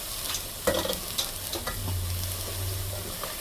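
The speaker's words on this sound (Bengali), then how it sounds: "আমি আগে মাছটা দিব, তারপরে তেল হালকা ভেজে নেব মাছটা।" Golda prawns frying lightly in a pan produce a close, steady sizzle punctuated by several short stirring scrapes and clicks, loudest early on, then settling into an even hiss.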